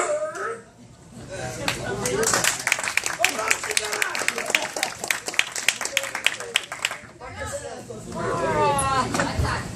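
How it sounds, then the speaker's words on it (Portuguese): Live audience at a comedy stand-up show applauding for Vinícius, a dense run of claps with cheering voices and crowd chatter throughout, loudest in the middle and tapering off. "Vamos aplaudir Vinícius!"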